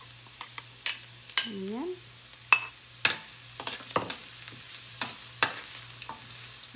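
Garlic sautéing in hot oil with onion in a pan, with intermittent utensil clinks and stirring scrapes over a steady low hum, and a brief spoken word near the start.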